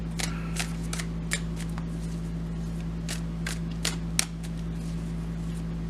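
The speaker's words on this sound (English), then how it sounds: "I did do a fair amount of shuffling beforehand, so I won't do too much." Tarot cards being shuffled by hand, a soft papery riffling broken by sharp card snaps at irregular intervals over a steady low hum.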